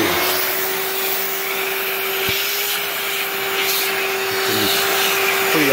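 Shop vacuum cleaner with a bandsaw-cut attachment sucking along a 2006 Dodge Sprinter radiator, a loud steady close whine with faint scraping rubs against the fins.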